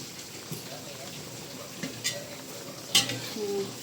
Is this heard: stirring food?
yes